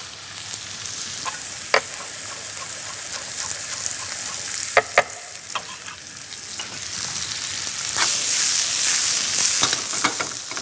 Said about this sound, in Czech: zelenina už je tepelně předupravená, proto jenom krátce orestuju a dochutím